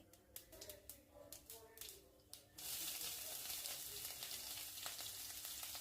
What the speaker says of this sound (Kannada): ಈಗ ಒಂದು ಕಡಾಯಿಗೆ ಎಣ್ಣೆ ಕಾದ ನಂತರ ಸಾಸಿವೆ ಮತ್ತು ಸಣ್ಣಗೆ ಹೆಚ್ಕೊಂಡಿರೋ ಮೆಣಸಿನ್ಕಾಯಿ